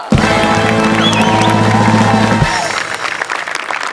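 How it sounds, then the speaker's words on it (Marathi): Studio audience at a Marathi comedy show breaks into loud, sustained applause that carries over a brief musical chord, then continues as dense clapping on its own. "त्यांच्यासाठी सुद्धा एकदा जोरदार टाळ्या."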